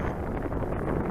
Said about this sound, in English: The wind's kind of blowing right off my left ear.